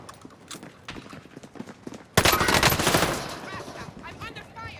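Call of Duty: Modern Warfare gameplay with scattered clicks and thuds, then a sudden loud burst of rapid automatic gunfire that fades into lighter rattling, with bits of muffled voice.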